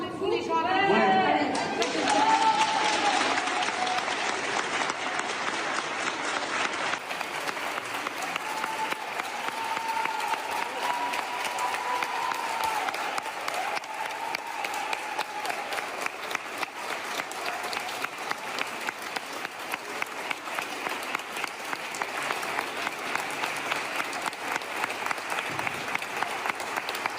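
A crowd applauding, with a burst of voices and chatter at the start giving way to sustained, rhythmic clapping that continues at an even level throughout.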